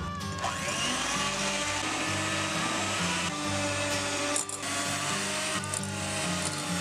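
An electric mixer beats room-temperature cream cheese in a bowl for frosting, a continuous whirring motor hum with rhythmic pulsing as the beaters churn, close and steady with brief dips.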